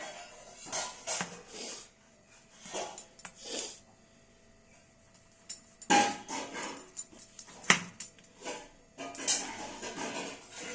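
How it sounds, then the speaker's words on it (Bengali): Knife chopping a tomato on a cutting board in a home kitchen, a series of sharp close taps in irregular bursts with short pauses between. "এবার দেখো টমেটো কাটবো, টমেটোটা কাটবো এবার।"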